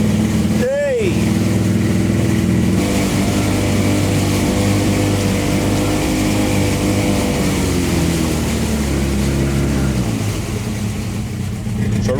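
A speedboat built from a converted dumpster runs on the English Channel, its engine droning steadily and rising as power is added, with a brief whistling sweep near the start and the revs easing off toward the end.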